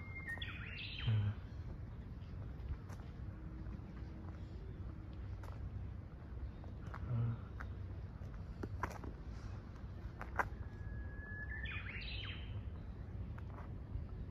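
Faint, sparse chirps from birds sound at intervals in a quiet open-air museum village of Meiji-era buildings, over a low steady background hum.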